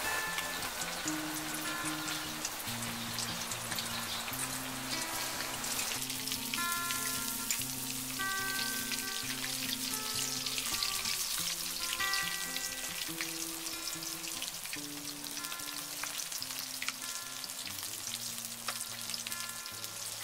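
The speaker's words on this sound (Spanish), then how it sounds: "Freímos 3 minutos por cada lado." Breaded chicken cutlet frying for Japanese katsu curry, a steady, dense sizzle and crackle of hot oil that continues without a break, loud and close, with no voices.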